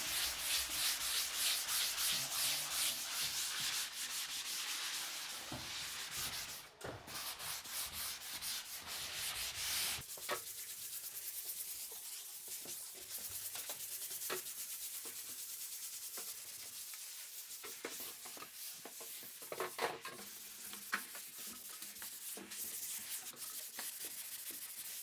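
A handheld sanding sponge scrubs drywall into a corner, producing steady, close, continuous abrasive rasping with brief pauses and repositioning scrapes partway through.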